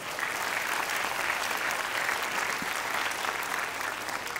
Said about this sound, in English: Give them a round of applause anyway.